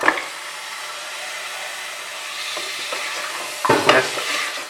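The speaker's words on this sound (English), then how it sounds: "Just keep on stirring it with low to medium flame, unless and until the color of the mutton has changed into white." Mutton pieces being stirred and fried in a pan over low to medium flame, a continuous close sizzle with scraping stirs and louder bursts of crackle near the end.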